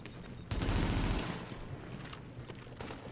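Video game gunfire erupts in a dense, loud burst of rapid shots lasting under a second, then thins into scattered fire and rumble that continues at a lower level without talk.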